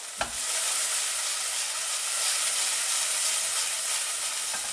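Ingredients for a tortilla sandwich fry in a pan with a steady, even sizzle and hiss that holds throughout, with one brief knock near the start and no talking.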